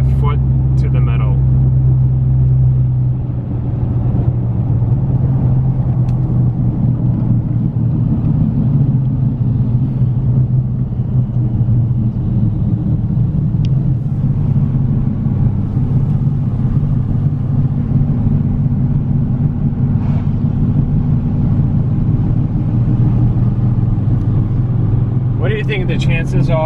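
A lifted Nissan Frontier's engine drones in a steady low rumble with the accelerator floored, unable to climb past low RPM. It is heard from inside the cab, loud and continuous, with no voice speaking.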